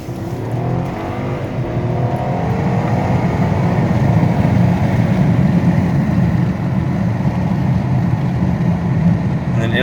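2013 Ford Taurus Police Interceptor sedan with twin-turbo EcoBoost engine and AWD, heard from inside as a steady loud engine drone with a shift in tone as it downshifts, continuous throughout.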